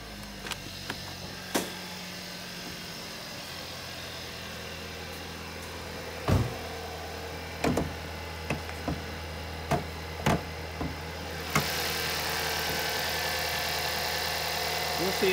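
A 2015 Hyundai Sonata with a 2.4 liter four-cylinder engine idles quietly and steadily, a smooth low hum broken by scattered clicks and knocks nearby, with a brief rise in hiss near the end.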